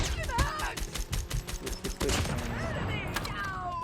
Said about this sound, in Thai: ใช้ปืนสั้นอันใหม่เลย แล้วก็ไปยิงให้ครบสิบคนแค่นั้นแหละครับ